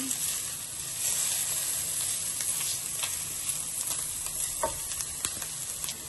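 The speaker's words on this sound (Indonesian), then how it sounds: "kita tumis deh. Nanti tumis sampai dia harum" Steady, dense sizzling of red chilies frying in a hot pan, with occasional scrapes of stirring, continuous and close throughout.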